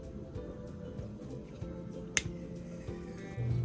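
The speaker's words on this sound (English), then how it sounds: "We're going to tighten it down until we hear a click." A single sharp click from a cone nozzle snapping tight onto a can of Great Stuff Wide Spray expanding foam, heard once and briefly over a low background hum.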